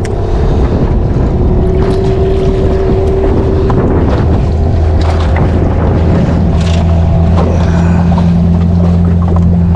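Strong wind buffets the microphone at sea on a fishing boat, with a steady boat engine drone and water noise throughout, loud and continuous.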